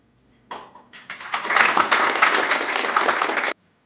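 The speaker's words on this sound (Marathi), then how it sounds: "ओके चलो सरांसाठी एकदा जोरदार टाळ्या होऊन जाऊ" Audience applause at an award ceremony for a stock-market trading academy, starting with a few scattered claps and swelling within a second into loud, sustained clapping that runs for about two seconds before stopping abruptly.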